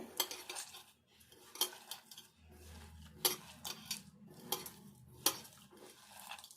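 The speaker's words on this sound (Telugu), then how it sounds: "ఇవి ఇట్లా మెత్తగా కలుపుకోవాలి" Soaked puffed rice mashed and mixed by hand in a bowl, with repeated soft squelching and clinking strokes in a steady rhythm, close and fairly quiet, without talk.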